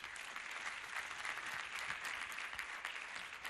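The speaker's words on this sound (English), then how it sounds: "Can we join our hands to make a thunderous applause for our beloved Chancellor" A graduation audience gives the university chancellor dense, sustained applause, heard as a steady, even roar of many hands clapping at a faint overall level, with no talking over it.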